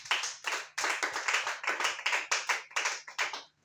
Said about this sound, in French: Acclamez Jésus pour ça.